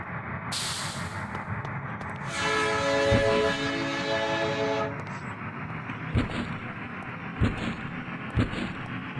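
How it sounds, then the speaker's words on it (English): A train blows a long, loud, sustained horn as it is about to leave in the video game Amok Runner. Rail rumble follows, along with a few sharp clanks and thuds. "Hurry up, the train's about to leave."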